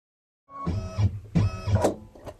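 An embroidery sewing machine stitches an inner circle on a table topper design, a quick mechanical chatter in two close bursts of rapid needle strokes, near and fairly loud, with no voices.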